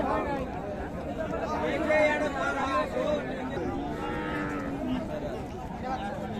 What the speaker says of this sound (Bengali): জোয়ান বয়সের গরু দর্শক